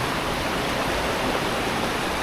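A waterfall roars as a loud, steady broadband rush of falling water, close and constant with no other sounds.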